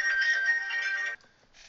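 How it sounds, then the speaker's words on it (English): A phone ringtone plays a steady bright electronic melody for about a second, stops, then briefly starts again, loud and close in a quiet room. "The phone's ringing off the hook."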